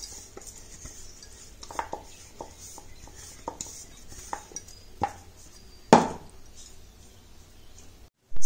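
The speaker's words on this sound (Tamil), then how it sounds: "இப்போது இதை நம்ம வந்து 1 இரும்பு கடாயில் சேர்த்துக்கலாம்." Freshly ground herbal hair dye paste is scraped into an iron kadai: scattered spoon-on-metal clinks and scrapes, fairly close, with a sharper knock near the end and quiet gaps between strokes.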